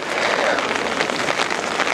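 Rain falls steadily at an outdoor peace festival in Yokosuka during stormy weather in 2013, a loud, even hiss of drops hitting surfaces nearby, with faint voices now and then.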